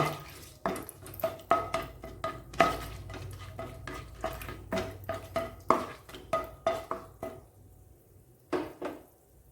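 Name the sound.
frying dried chillies, cloves, cinnamon and cardamom in a pan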